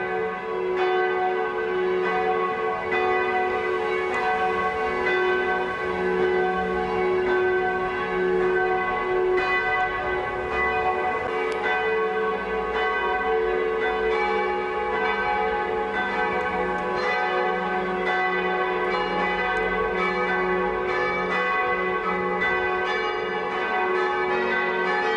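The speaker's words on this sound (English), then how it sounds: "Oh, the bells are ringing here at this Catholic church in Horb." Church bells ring loud and steady at a Catholic church in Horb, Germany, with overlapping bell tones sustained throughout and no voices.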